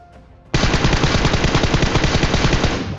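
Sustained automatic gunfire in the video game PUBG kicks in abruptly after a brief quiet lead-in, a loud, dense rattle of rapid shots continuing steadily to the end with no talk.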